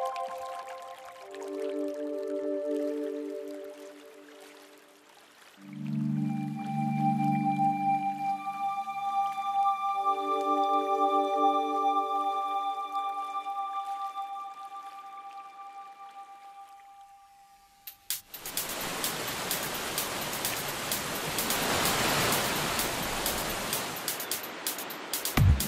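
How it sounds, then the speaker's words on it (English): Gushing rapids of the Kali river burst in as a broad, loud rushing roar after a long stretch of soft tonal music, churning steadily to the end. "The gushing rapids make for one of the best rafting experiences down south."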